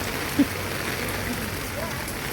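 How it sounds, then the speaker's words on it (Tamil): Heavy rain falls during a storm in Thiruvanchery, with flooding around a shop. A dense, steady hiss of rain on surfaces continues throughout, close and even. "இன்னும் மழை இருக்கு, மழை புயல் இருக்கு"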